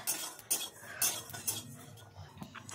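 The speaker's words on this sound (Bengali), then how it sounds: "শুকনো খোলায় ভেজে নিচ্ছি। অনবরত নাড়তে হবে, নাহলে কিন্তু মশলাটা পুড়ে যাবে" Cumin, coriander and five-spice seeds dry-roasting in a pan over low heat, stirred constantly, with repeated close clinks and scrapes of a metal spoon against the pan at an even rhythm.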